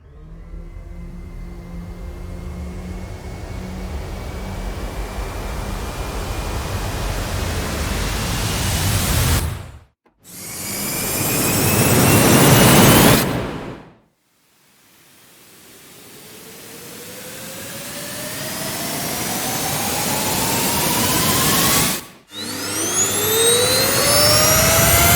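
Sweeping synthetic risers of filtered noise climbing in pitch, several building swells separated by abrupt cutoffs, loud and alone, from the Viral Audio Ascent sound library.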